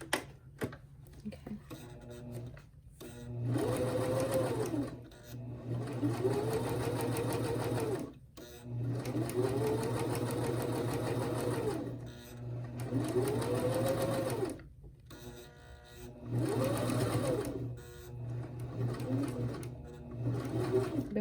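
A sewing machine stitches purse bag cover fabric in long whirring runs of rapid needle chatter, broken by brief pauses for repositioning, close and steady with no talking.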